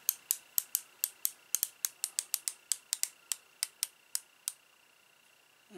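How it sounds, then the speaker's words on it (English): A DeWalt ratcheting screwdriver clicks through about twenty sharp, close ratchet ticks in an uneven rhythm, quiet between clicks and stopping before the end. "it's pretty fine ratcheting action"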